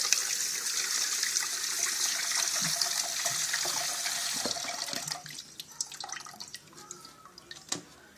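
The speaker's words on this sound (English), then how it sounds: "Rinse it in cold water." Cooked algae for a Lao spicy salad rinsed under a cold running kitchen tap, a steady loud gush of water for about five seconds, then quieter drips, splashes and handling sounds in the sink.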